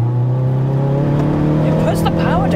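A 380 bhp Mk4 Ford Focus ST engine drones loudly and close, its tone holding steady then climbing as the revs rise near the end, with a person talking over the engine noise.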